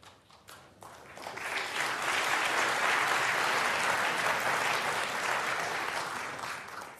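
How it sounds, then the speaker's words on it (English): Sustained applause from a snooker crowd, restrained and steady rather than roaring, building over the first second and holding evenly before easing slightly at the end. "It's a sort of muted applause, isn't it?"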